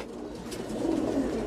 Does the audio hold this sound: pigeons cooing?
yes